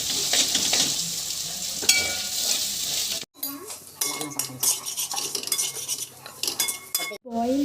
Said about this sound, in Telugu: ఎగ్ తీసుకొని ఇలా వేసుకోవాలి. మొత్తం మళ్ళీ ఒకసారి కలుపుకోవాలి.